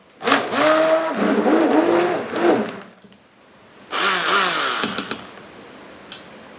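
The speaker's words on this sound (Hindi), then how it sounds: "तो ये शक्कर थोड़ी सी मोटी है इसलिए आवाज़ आ रही है, मैं इसको एक बार ढंग से ब्लेंड कर लेता हूँ।" A kitchen blender whirs loudly in two bursts with a short pause between, mixing coarse sugar into lassi, its motor pitch wavering and climbing as it churns.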